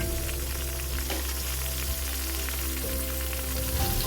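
Garlic and ginger fry in a pan while a spoon stirs them during cooking of Painda, a traditional D.I. Khan dish, producing a steady, dense sizzle with faint scraping, close and continuous.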